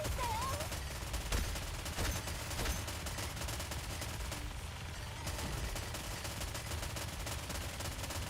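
Gunfire from the video game Nikke crackles in dense, rapid bursts that run nearly nonstop as a loud, continuous barrage, mixed with game sounds.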